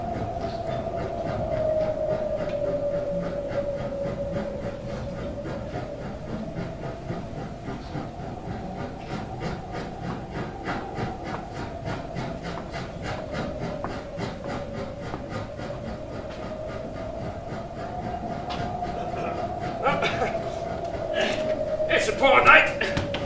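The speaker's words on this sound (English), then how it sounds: "the train in which he is to travel the last hour of his journey is ancient and comfortless" An old train rolls along steadily with a rhythmic clatter and a sustained whining tone, continuing for a long stretch with a few louder knocks near the end.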